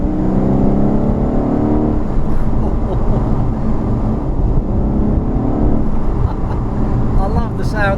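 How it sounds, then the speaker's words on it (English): A 4-litre, 500-horsepower Jaguar XFR engine pulling hard under acceleration, a loud continuous low roar inside the car with someone talking over it throughout. "I love the sound of that engine."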